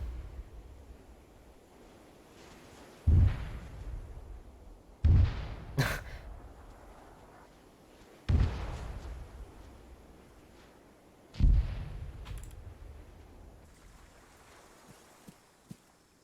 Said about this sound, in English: Oh, mortar.